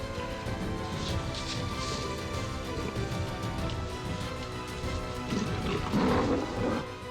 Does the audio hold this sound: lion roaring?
yes